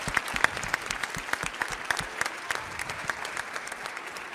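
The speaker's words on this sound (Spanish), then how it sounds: "Un aplauso, por favor." Moderate audience applause closing an energy-sector conference panel, with fairly sparse, distinct claps in an irregular rhythm and no talking over it.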